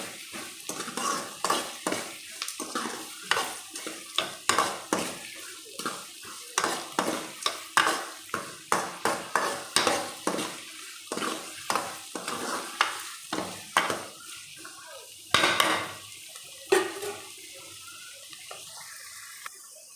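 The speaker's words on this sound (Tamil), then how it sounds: "சீக்கிரமாக வெங்காயம் வதங்கணும்" Onions sautéing in oil in a pan while being stirred, for a homemade dry fish curry: a run of repeated scraping, clattering stir strokes over a steady frying sizzle, close and fairly loud, with no talking.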